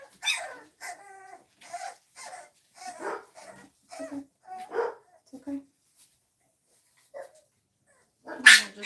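French bulldog puppies yip, whimper and give short barks in a series of close bursts separated by quiet gaps, ending with a louder cry, while a person speaks briefly.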